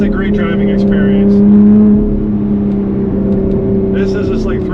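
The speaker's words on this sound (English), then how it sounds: "the whine of the supercharger, it's just a great driving experience" A 2020 Lotus Evora GT's supercharged engine drones loudly from inside the cabin, a steady tonal hum with a whine on top that swells briefly, while people talk over it.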